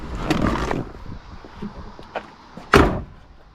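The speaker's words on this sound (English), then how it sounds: "Door shut great, line up nice." The door of a 1966 Pontiac Lemans is handled with a few soft rattles and knocks, then shut with one solid, close thump near the end.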